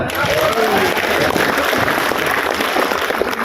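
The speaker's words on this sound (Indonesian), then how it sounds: "Tepuk tangan dong." A crowd at a religious gathering in Cikarang breaks into loud applause, a thick, continuous patter with faint voices and murmur mixed in underneath.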